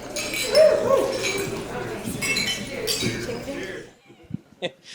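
Glasses clink together in a wedding toast amid a crowd of overlapping voices and chatter, a few bright chimes rising over the din before it quiets to sparse faint sounds near the end.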